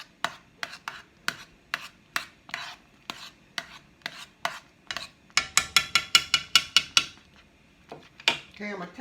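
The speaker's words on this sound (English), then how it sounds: "you do want to chop them peaches up a little bit" A knife chops soft peaches on a board with sharp, evenly spaced taps, then speeds into a quick flurry of cuts before slowing again, close and clear.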